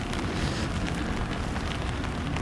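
Steady rain falls in Jeddah, a dense, continuous hiss of drops hitting surfaces, fairly close and even in loudness throughout with no talking.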